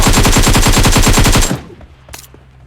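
Rapid automatic gunfire from the video game PUBG Mobile, a loud, fast, evenly spaced burst of about a dozen shots lasting a second and a half, then a trailing echo and a faint metallic clink.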